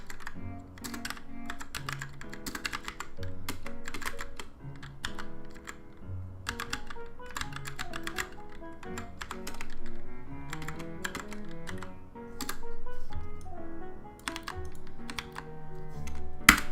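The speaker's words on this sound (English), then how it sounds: "I need to type in all these test cases" Rapid typing on a computer keyboard while entering code test cases, bursts of crisp key taps and spacebar thumps in an uneven rhythm, close and clear with no speech.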